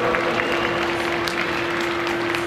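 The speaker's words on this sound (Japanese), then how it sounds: "楽しんでいただけたという方は今一度大きな拍手をお願いします" Applause from a large crowd at a show in Nagoya Dome, a steady wash of clapping under a sustained tonal hum from the venue's sound system.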